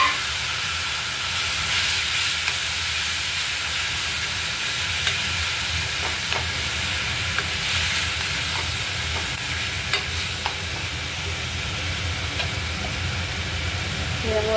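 Grated bottle gourd hits hot tempering oil in a pan and sizzles steadily, a loud continuous frying hiss with faint stirring scrapes throughout, no voices.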